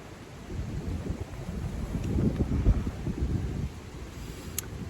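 Strong gusts buffet a microphone outdoors in windy, lightly rainy weather, producing a low rumbling roar that swells to a peak midway and then eases, with no voices.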